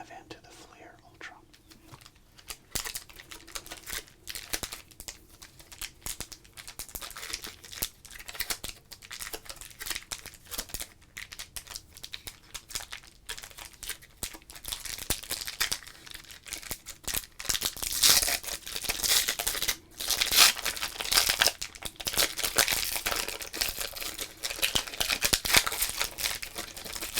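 A 1992 Flair Ultra trading card pack is torn open and handled up close, soft crinkling and tearing of foil wrapper with faint whispering throughout, growing busier and louder toward the end.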